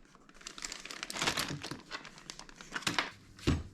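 Dense crinkling and rustling of a plastic bag as items are packed back inside, with irregular bursts and a sharper crackle near the end, close and fairly loud with no talk.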